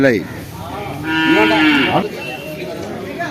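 A bull at the Kollannur livestock market lets out a loud, drawn-out moo, close and rising then falling, with faint market noise behind it.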